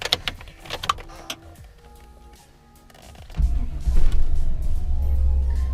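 1998 GMC Sierra K1500 pickup truck cranking and starting, with a few clicks and starter whir, then the engine catching at about three and a half seconds and settling into a steady, close idle rumble.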